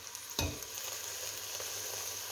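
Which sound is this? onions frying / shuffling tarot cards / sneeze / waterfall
onions frying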